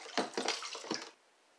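Rit fabric dye stirred into water to dissolve it, a few close, soft sloshing swishes over about a second, then near silence, no talking.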